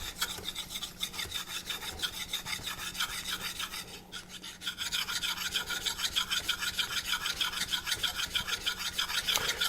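A convex knife is ground steadily against a Naniwa diamond whetstone, producing close, rhythmic rasping strokes with a short pause near the middle before the scraping resumes.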